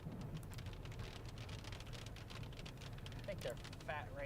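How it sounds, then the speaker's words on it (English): Fat raindrops pelt a vehicle during severe weather, a steady dense patter with a few sharper pings standing out near the end, heard from inside, with faint voice traces. "I think they're fat raindrops"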